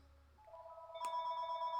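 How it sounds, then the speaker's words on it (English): A telephone rings with an incoming call, a clear electronic ringtone rising over faint background music, steady and continuous. "I'm being interrupted by a phone call!"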